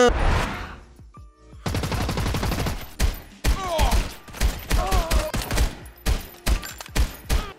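Rapid, punchy pistol gunfire in the VR shooter Hard Bullet, loud and close: bursts of quick shots, then a string of separate sharp cracks with short gaps between them.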